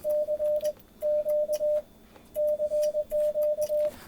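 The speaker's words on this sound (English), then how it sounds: "I like to use Morse code a lot." A Morse code straight key tapped by an amateur radio operator, heard through the radio's sidetone as a clear, steady beeping tone broken into short and long pulses. The groups of dots and dashes come close and loud, with no voice over them.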